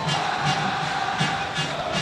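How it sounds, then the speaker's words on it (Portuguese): A football crowd at São Januário stadium roars and chants in a rhythmic, pulsing swell, a dense wall of distant voices. "E a torcida aqui em São Januário já grita, já canta, se agita"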